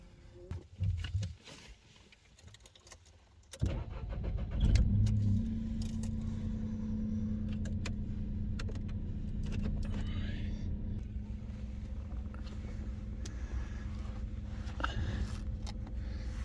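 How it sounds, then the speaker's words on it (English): A car engine cranks and catches on a chilly 3-degree winter morning at a roadside camp in Turkey, after a jangle of keys, then settles into a steady, close idle rumble that continues to the end. "I'm going to get the engine on, warm up."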